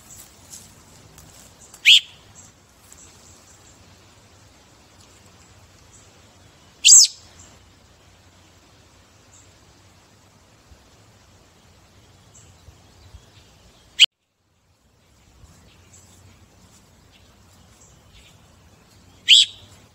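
A few short, bright bird chirps stand out alone from a faint outdoor background, spaced several seconds apart and fairly close by.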